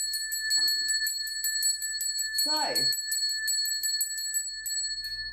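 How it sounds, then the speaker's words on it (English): A small bell rung for an altar to the goddess Oshun gives a long series of bright, rapid tinkling strikes with steady ringing overtones throughout, briefly overlapped by a short spoken word midway. "Oshun is known for her bells."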